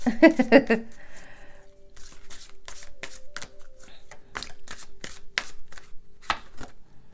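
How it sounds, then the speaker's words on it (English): A quick riffle of playing cards opens, followed by a run of crisp, rapid card flicks and taps, close and fairly quiet. "Shuffle these cards."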